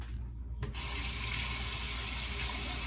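Steady water running from a tap to rinse a double-edge safety razor, starting after a moment of quiet and then flowing continuously and evenly.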